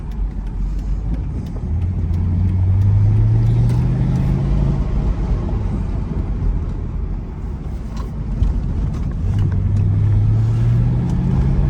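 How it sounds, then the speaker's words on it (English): 2006 Mercedes SL500 driven aggressively with the windows down, its engine rising twice in strong accelerating pulls with a falling lull between, heavy road and wind noise filling the cabin, no talk. "Driving it a little aggressive so I can push it"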